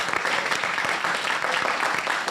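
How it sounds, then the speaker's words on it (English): An audience applauds at a talk event, a dense, steady clapping that fills the short stretch at moderate loudness. "let's give a round of applause"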